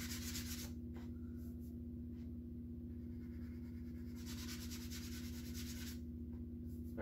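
Hand sanding of a Guitar Hero guitar faceplate, with a soft, quiet scratchy rubbing in short strokes that starts and stops, over a steady low electrical hum.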